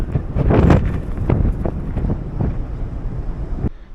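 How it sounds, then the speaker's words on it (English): Strong gusty wind on the Costa Diadema cruise ship buffets the microphone, with low rumbling bursts that rise and fall, plus faint water or boat noise beneath. "It's so nice out, but very windy."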